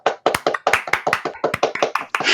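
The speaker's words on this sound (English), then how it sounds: "Big round of applause." A few people clap for two guests at the close of a film review show, close and loud, with sharp, separate hand claps in a quick, slightly uneven rhythm, alone with no talking.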